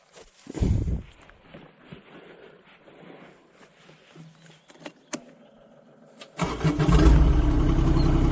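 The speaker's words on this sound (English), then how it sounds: "So I want to use the clutch every time I start the machine." A digging machine's engine is started with the clutch in: quiet shuffling and clicks come first, then the engine catches and settles into a loud, steady running rumble nearby.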